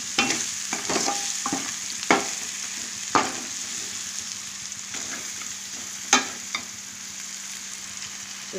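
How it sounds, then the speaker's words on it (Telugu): Mutton and eggplant pieces fry in oil in a pan for a mutton and eggplant curry, a steady sizzle broken by several sharp scrapes and clacks of a stirring spoon, close and moderately loud with no voices. "చక్కగా ఆయిల్లో ముక్కలన్నీ ఫ్రై అయ్యండి"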